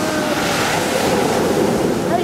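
Sea surf and strong wind roar together in a loud, continuous wash with microphone buffeting, an ocean shore waiting for an approaching hurricane in Mexico.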